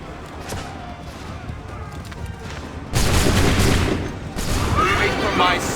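Musket volleys from a line of soldiers in Assassin's Creed 3 ring out as loud, sharp bursts, with quieter battle noise and shouted commands before the first volley and a second volley a moment later.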